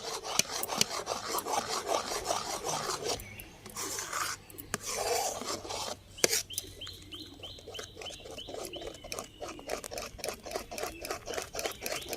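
Cream being mixed vigorously for homemade mango ice cream, a steady scraping, rasping rhythm of utensil against bowl that runs throughout, briefly pausing midway.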